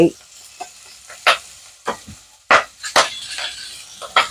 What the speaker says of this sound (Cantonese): 爆香啲乾瑤柱同薑